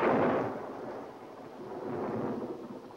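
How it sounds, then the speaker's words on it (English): A low rolling thunderstorm rumble during a cold night indoors, loud at the start then fading and swelling again, with no voices. "It's the storm that's getting on my nerves."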